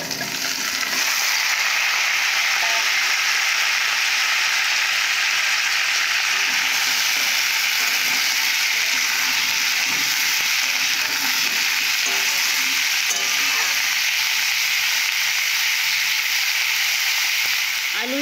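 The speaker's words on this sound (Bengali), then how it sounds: "এবারে ভালো করে ভেজে নেব। এরপর সজনা ঠাঁড়া আর আলু দেব।" Moringa drumsticks and potato pieces fry in a pan, a dense, even sizzle running for well over fifteen seconds with scattered scraping and stirring scuffs layered on top.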